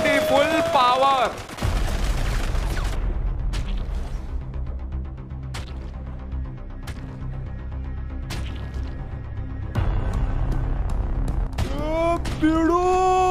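Rapid bursts of MP40 submachine-gun fire in the Free Fire video game crackle over game music and effects, with sharp shots recurring throughout.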